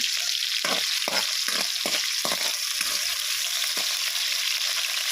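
Onion and garlic sizzle steadily in hot oil in a pan, with a series of soft scraping stirs from a utensil breaking through the continuous frying hiss, close and fairly loud.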